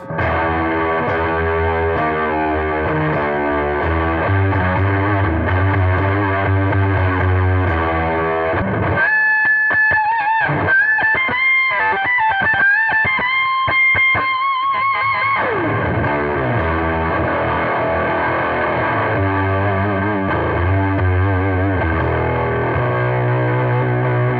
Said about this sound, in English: Just get some like total fuzz destruction in there.